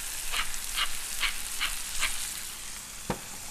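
A steak sears in beef tallow with a steady sizzle, and a few rhythmic scraping bursts are followed by a single sharp knock near the end, all close and without voices.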